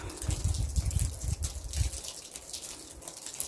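Water gushes and splashes steadily from a bathhouse shower used for hot-and-cold contrast bathing, a close, continuous wash of pouring liquid with no voices.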